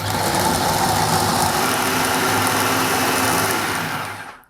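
An electric chopper mincing boneless meat into keema runs as a steady, loud whirring buzz, then cuts off abruptly at the end.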